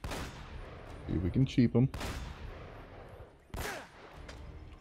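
Shotgun blasts from the game Uncharted: Drake's Fortune, a few loud booming shots with a sharp burst near the middle, heard under a voice talking during play.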